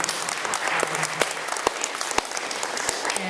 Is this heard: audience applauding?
yes